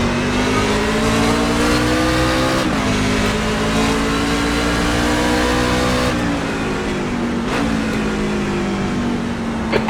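A rookie-class race truck in a racing video game at Watkins Glen roars at full throttle, its engine pitch climbing and dipping through gear changes in a loud, continuous drone with no talking.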